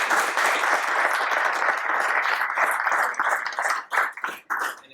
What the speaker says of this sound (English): So before we get into Q&A, let's give a round of applause to Mr. Motiwala.